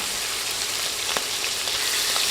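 Pangas fish pieces fry in hot oil in a pan, giving a continuous close bubbling sizzle with a few sharp pops and crackles scattered through it.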